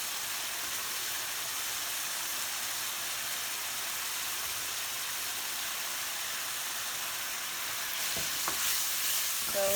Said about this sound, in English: So my onions go in